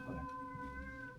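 A single cat meows faintly indoors in a kitchen, a short drawn-out tonal call heard alone against quiet background noise.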